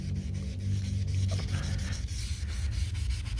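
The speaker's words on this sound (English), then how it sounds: "I'm using a magic eraser to scrub off the remaining bottom coat paint" Magic eraser scrubbed against old ablative bottom paint on a boat hull gives a steady, close, continuous rubbing with no talk, even in loudness throughout.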